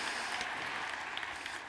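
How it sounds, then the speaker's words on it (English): An audience of men claps hands in a hall, a dense, fairly faint patter of applause heard from a distance. "Fellas, clap your hands."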